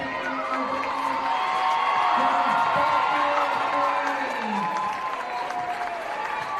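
A home crowd at a high school girls basketball game claps and cheers for a departing senior player. The applause is sustained and fairly loud, with scattered whoops and a voice talking over it.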